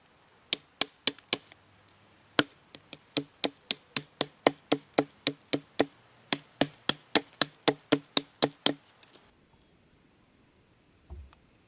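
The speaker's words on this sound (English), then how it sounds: "Broad blade is well suited for light hammering jobs as well." Sharp metallic knocks from a Cudeman 299B Boina Verde survival knife's broad blade used for light hammering on wood outdoors, around thirty steady, evenly spaced strikes, close and crisp, then quiet with a faint bump at the end.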